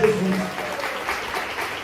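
A church congregation claps together, a brief dense burst of applause heard close, with voices mixed in.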